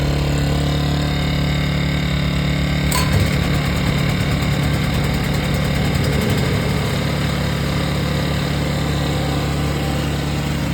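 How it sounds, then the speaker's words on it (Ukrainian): A loud, rough engine drones steadily throughout with a slightly knocking, chugging texture, a conventional petrol generator running nearby; a brief click near the start. "Ви чуєте, да, що як завели звичайний генератор"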